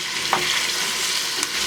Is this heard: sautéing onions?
yes